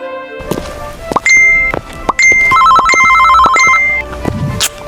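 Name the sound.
phone ringing in Sakura School Simulator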